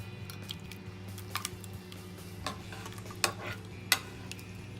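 Fish pie sauce is spooned and scraped into a dish at home, making soft wet squishes and a few sharp utensil clinks against a low background hum.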